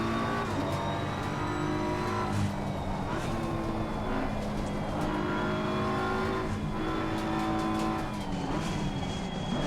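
A race car engine in Assetto Corsa Competizione drones loudly and steadily, with shifting engine harmonics and tyre noise as the car is pushed hard on track.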